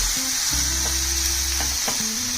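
Red chili powder sizzles and fries in hot oil in an iron wok while eggplant bharta is prepared, a loud continuous close hiss with a few faint scraping touches.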